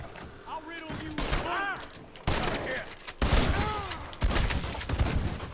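Gunfire in the Red Dead Redemption 2 video game, several loud bursts of shots in quick succession with ringing ricochet-like tails, layered over background game sound.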